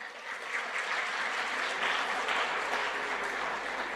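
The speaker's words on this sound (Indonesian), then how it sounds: "Ini tepuk tangan" An audience applauds at a gathering of the Nahdlatul Ulama, sustained crowd clapping heard at a moderate distance, even and continuous from start to finish.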